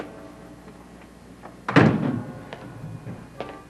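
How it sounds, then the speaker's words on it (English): A house door is opened with a single solid thunk and brief rattle, loud and close, followed by a few faint knocks in a quiet room. "Laura, open the door."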